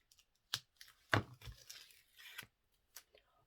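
A few sharp tearing and peeling sounds as backing is peeled off adhesive tape, close and crisp, with short rustles between them and no voices.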